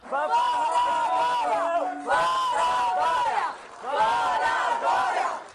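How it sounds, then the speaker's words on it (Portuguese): Crowd of protesters booing and shouting at the Legislative Assembly of Sergipe, a loud sustained roar of many voices in three long surges with brief dips between them. "foi recebido com protestos e vaias por um grupo de manifestantes na Assembleia Legislativa de Sergipe"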